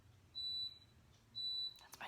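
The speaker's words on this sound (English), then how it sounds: "You obviously get the dishwasher beeping in the background." A kitchen dishwasher beeps to signal its cycle is done: two steady electronic tones, each about a third of a second, heard faintly in the background of a quiet room.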